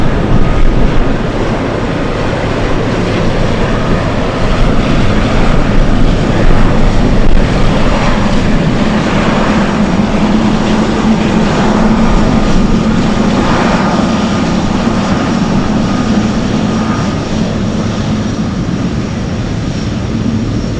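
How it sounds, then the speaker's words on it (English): A China Airlines airliner taxiing at an airport, a loud, steady engine roar and rumble that holds evenly throughout with no talk. "China Airlines is taxing so quick right now."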